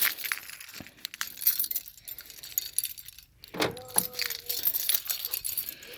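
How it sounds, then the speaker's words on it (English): Keys jangle and clink at a van door as it is unlocked, close and intermittent, with scattered metallic rattles and a few bright chinks over quiet outdoor background. "Guess it helps if I unlock the door."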